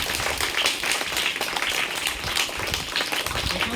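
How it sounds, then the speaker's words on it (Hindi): An audience at a school result and prize event for class 1 to 5 pupils claps loudly to welcome someone, a brisk, textured burst of applause that lasts several seconds. "जोरदार ताली से स्वागत कीजिए।"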